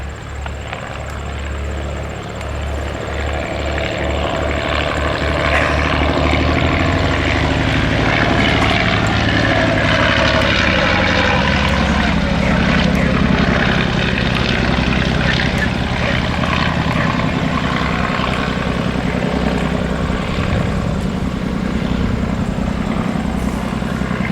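The engine of a 1918 Fokker D7 biplane runs continuously, a loud, steady propeller drone that holds its level throughout with a slight rise as the aircraft turns.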